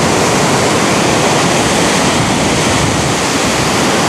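Steady, loud wash of surf breaking on the beach at Playa Catedras in Galicia, a continuous broadband roar with no talk.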